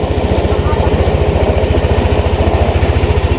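Yamaha Nmax 155 V1 scooter engine running at a low, steady rev with a fast, even putter, close and loud, while a voice speaks over it; the scooter has been misfiring on the road and struggling to start.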